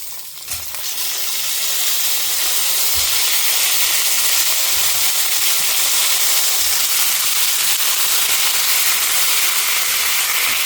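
Cut brinjal frying in hot oil with sesame seeds, a loud, dense, continuous sizzle and hiss that swells in the first seconds and then holds steady, close by, with no talking.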